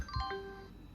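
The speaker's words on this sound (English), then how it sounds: "Oh, it just chimes." A Windows NT 3.51 log off chime plays on an IBM ThinkPad 380D: a short, clear ding-dong of bright ringing tones that decays over about a second, close and alone.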